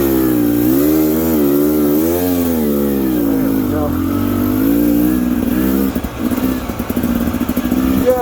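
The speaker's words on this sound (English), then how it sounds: "I was giving the bike gas while I started at an angle" A 2022 Beta Xtrainer dirt bike with an aftermarket fat pipe revs hard on a steep cliffside trail: loud, close engine rising and falling in pitch, then choppy throttle blips toward the end.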